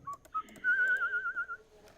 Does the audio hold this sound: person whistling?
yes